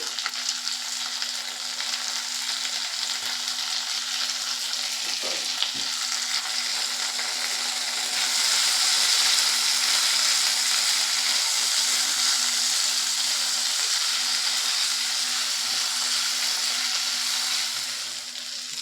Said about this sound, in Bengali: কাঁচা লঙ্কাটাও দিয়ে দিচ্ছি দিয়ে এগুলোকে ভালো করে ভেজে নেবো